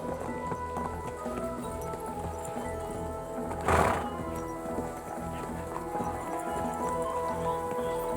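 A horse in the video game Kingdom Come: Deliverance II whinnies once, a short bright burst over a steady bed of ambient music and faint background noise.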